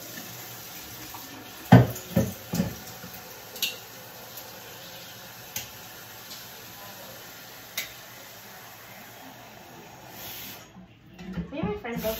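Water runs steadily from a tap as a sink or container fills, a continuous hiss under clattering knocks and handling sounds, then breaks off into louder splashing near the end.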